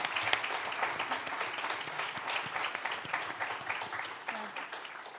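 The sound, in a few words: audience applause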